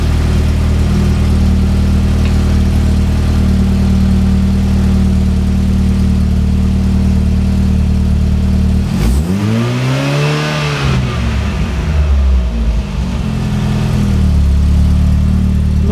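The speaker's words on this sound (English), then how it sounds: "I wonder if it changes if I rev the engine up." A car engine idles loudly and steadily, then revs up sharply and sweeps back down before settling into idle again, during alternator experiments.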